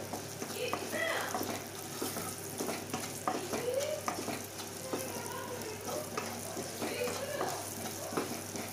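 Ginger and garlic frying in oil with green chillies added, for a spicy prawn roast: a continuous close sizzle with scraping stirs and clinks, and a voice talking over it at times.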